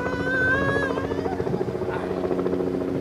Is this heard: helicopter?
yes